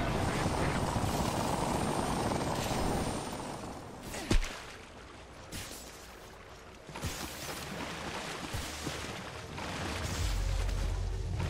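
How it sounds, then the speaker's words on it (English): A supply ship in Apex Legends flies in with a steady rotor-like roar that fills the opening seconds, then fades under scattered in-game clicks, thumps and impacts, with no talk. "supply ship inbound"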